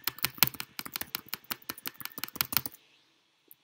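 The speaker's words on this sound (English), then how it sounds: "This is me spam clicking without the glitch, now with the glitch." Rapid spam clicking on a computer mouse while playing Roblox Ninja Simulator 2, a dense burst of close, sharp clicks for about three seconds before stopping abruptly.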